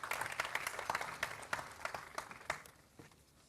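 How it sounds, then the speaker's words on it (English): Audience applause welcomes Mahesh Ramanujan, USGBC president, at the ISGW 2018 inauguration: fairly faint, scattered clapping with distinct sharp claps that thin out and fade near the end. "may we please have a big round of applause for him"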